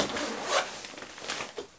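A zipper on a double-zippered gift bag is pulled open in short scratchy runs, close and moderately quiet, with brief pauses between pulls.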